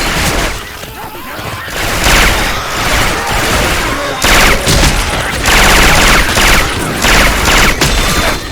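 Syphon Filter weapon sounds modded into Left 4 Dead 2 crack out as dense bursts of rapid gunfire, with loud volleys and brief gaps between them, and shouting voices mixed in.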